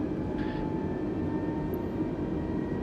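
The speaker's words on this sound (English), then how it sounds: "just the engine sounds in this game" A loud, steady airplane engine drone in Microsoft Flight Simulator 2020 fills the whole stretch, a constant low roar with a faint tonal hum and no voices.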